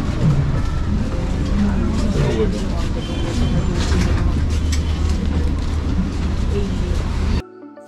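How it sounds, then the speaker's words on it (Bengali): The Vande Bharat Express pulls out of New Delhi station, heard from inside the coach as a steady, loud rumble with faint rattles, while muffled voices carry on underneath until it cuts off. "আমাদের ট্রেন নিউ দিল্লি স্টেশন ছেড়ে এগিয়ে যাচ্ছে আমাদের গন্তব্যস্থলের দিকে"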